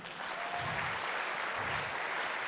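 A church congregation at a French-language prayer mass applauding in acclaim, a steady wash of clapping from many hands heard at moderate distance.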